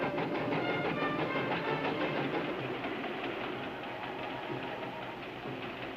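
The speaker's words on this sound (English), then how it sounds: "Both trains got safely through Coyote Canyon" Trains rumble through Coyote Canyon with a steady, clattering mechanical roll that eases slightly in the closing seconds.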